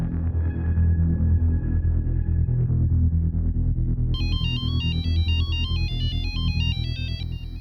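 A phone ringtone chimes in a repeating electronic melody over a low background rumble, starting partway through and continuing to the end.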